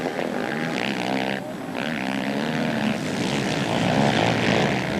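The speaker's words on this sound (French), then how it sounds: "On les entend bien ces motos en pleine charge." Motocross motorcycles roar at full throttle during an MXGP race at the Isle of Wight, a loud continuous buzzing drone with pitch shifting slightly as they race close by.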